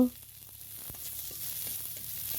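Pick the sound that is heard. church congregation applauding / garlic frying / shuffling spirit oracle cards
garlic frying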